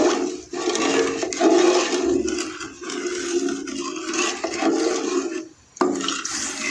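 Milk pours steadily into a pan over high heat for suji halwa, a continuous close splashing gush with a brief dip near the end.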